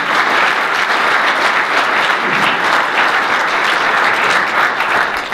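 Audience at a broadband summit gives a full round of applause, a loud, dense and steady clatter of many hands that continues unbroken with no voices over it.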